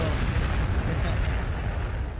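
Doomsday Arc weapon firing in the Warhammer 40K Gladius strategy game, a loud continuous rumbling artillery blast that fills the whole moment with dense booming roar.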